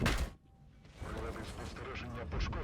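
Artillery fire in World of Tanks during an E100 heavy tank battle: a loud boom opens the clip, followed by rumbling blasts, mechanical clatter and further gunfire sounds mixed with game noise.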